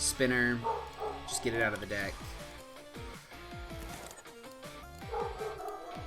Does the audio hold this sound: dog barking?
yes